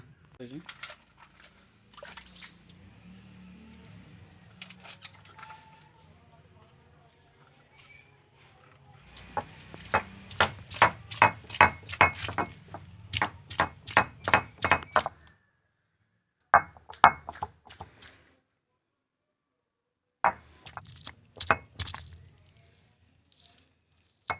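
Ginger and garlic paste is ground by hand on a stone in a home kitchen, making rhythmic gritty scraping and knocking strokes in bursts with pauses. A voice talks near the start.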